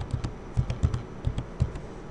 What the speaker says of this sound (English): type in your student number